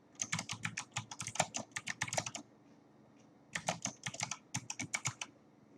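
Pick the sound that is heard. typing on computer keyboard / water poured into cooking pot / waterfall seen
typing on computer keyboard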